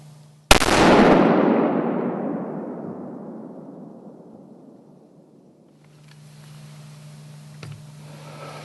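A single loud, close rifle shot during a late-December deer hunt in Georgia, a sharp crack followed by a long rolling echo that fades over several seconds before quiet outdoor background resumes.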